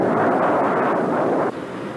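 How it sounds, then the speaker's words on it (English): A jet airliner cruising westward over the Great Plains, a steady broadband cabin roar that holds constant and then drops slightly in level near the end, with no talking. "As the passengers eat, the plane continues its westward journey over the Great Plains."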